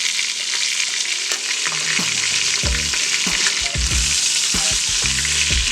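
Chicken pieces searing in butter inside a pressure cooker, a loud, close, continuous sizzle with sputtering crackle and occasional low bubbling pops throughout.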